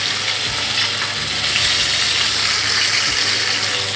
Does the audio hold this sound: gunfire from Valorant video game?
no